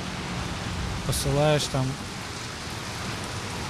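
Rain falling in the video game Jurassic World Evolution, a steady even hiss that runs throughout, with a brief stretch of someone talking in the middle.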